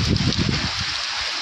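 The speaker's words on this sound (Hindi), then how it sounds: "बहुत तेज़ बारिश आने लग गई" Sudden heavy rain pours down at a farm, with wind strong enough to lift loose plastic sheeting; a dense, steady roaring hiss fills the clip, with heavier low rumbling gusts in the first second.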